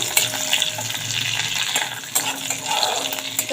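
Chopped garlic and split green chili sizzle in hot oil in a pan, a steady loud crackling hiss with a few utensil knocks.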